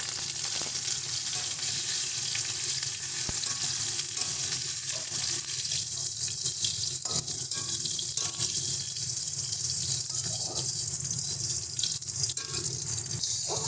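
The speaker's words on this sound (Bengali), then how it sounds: "ভালো করে উল্টে পাল্টে আলুগুলোকে কিন্তু ভালো মতন ভেজে দিতে হবে" Steamed, cut potatoes fry in hot oil with black cumin seeds, a continuous sizzle with scraping stir strokes and clinks of a spatula against the pan, steady and close.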